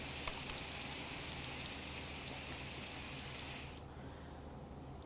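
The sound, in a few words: unseasonal rain falling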